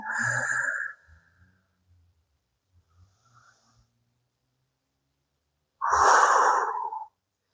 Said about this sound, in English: Take a couple rounds of breath here.